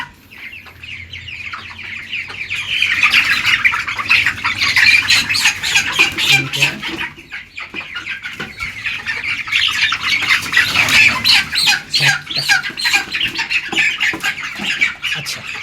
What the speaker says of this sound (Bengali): এখানে চারটা মুরগির ওজন দিচ্ছি আমি এখানে চারটা মুরগি আছে